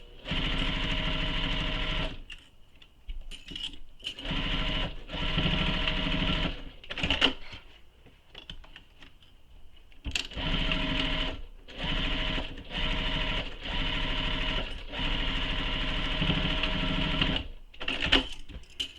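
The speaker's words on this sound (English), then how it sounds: "Again, starting at the bottom and sewing up towards the top of the pocket." A sewing machine stitches up the side pocket of a tote bag from bottom to top, running close in steady bursts that stop briefly and start again, with no voices.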